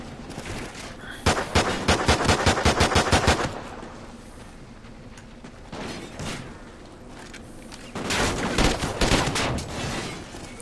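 Rapid bursts of gunfire in the video game Call of Duty Ghosts, a dense volley of quick shots followed by a single burst and then a further louder cluster, close and loud with no talk.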